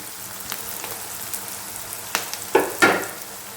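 Tomatoes dropping into a pan of browned, sizzling fried onions for a Telugu dahi tomato curry, a soft frying hiss punctuated by a few sharp bursts of sizzle as pieces land, close and with no talk.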